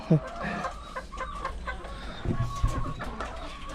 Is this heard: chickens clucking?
yes